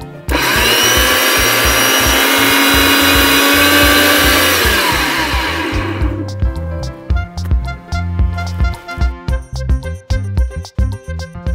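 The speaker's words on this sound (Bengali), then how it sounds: "এইবার এটাকে ব্লেন্ড করে দিই।" A kitchen blender whirs loudly and steadily, grinding green chillies with a little water into a paste, then stops at about six seconds, leaving scattered clicks and knocks behind.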